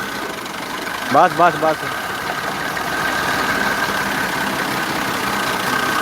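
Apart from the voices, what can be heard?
NF 240 tractor engine running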